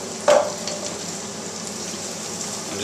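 Onions stirred in a frying pan for an omelette sizzle steadily, a clack of a utensil against the pan at the start, then continuous close frying hiss with no voices.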